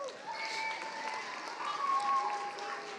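A school-event audience applauds a presenting team between student presentations, with steady crowd clapping and some voices mixed in over three seconds.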